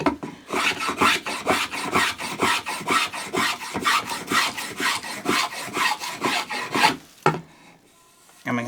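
A metal-bodied spokeshave takes fine, thin shavings off wood in a steady run of about twenty rasping strokes, each a short scraping burst close by, ending with a sharp knock and then near silence.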